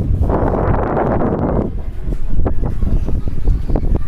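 Strong gusts of wind roar against the microphone for a moment on a sandbar beach, then give way to rougher, buffeting wind noise with scattered knocks.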